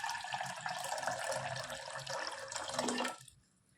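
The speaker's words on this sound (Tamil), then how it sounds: "எங்களுக்கு தேவையான அளவு தண்ணி விட்டுக்கிறேன்" Water pours steadily into a metal pressure cooker for about three seconds, loud and close, then stops abruptly.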